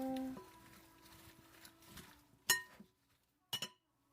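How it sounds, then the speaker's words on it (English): A spoon stirs a drink in a glass, with a soft swirl and then two bright, distinct clinks against the glass, close and quiet in a calm kitchen. "One more stir"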